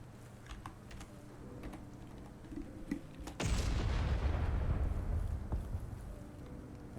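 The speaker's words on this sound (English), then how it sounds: "let's do another explosion" A sudden loud explosion in the Sword Hero video game bursts out at once with a heavy low rumble, then rolls on and fades slowly over several seconds against a quieter game soundscape.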